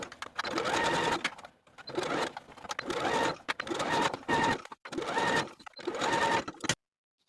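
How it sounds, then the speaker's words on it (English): A domestic sewing machine runs a blind hem stitch along a cardigan jacket sleeve, humming and rattling in steady bursts of several seconds with brief pauses between them, close by. "use your machine to do the blind hem stitch"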